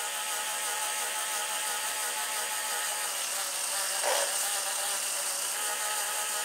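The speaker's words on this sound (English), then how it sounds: "The second gear, over here, you can see that the axle is turning much more faster than in first gear." Lego two-speed synchromesh gearbox running in second gear, a steady close mechanical whir of spinning plastic gears and axle, with a brief soft clunk midway.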